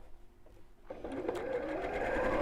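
A sewing machine starts up and quilts a cushion, its motor ramping into a steady close whir after a quiet start.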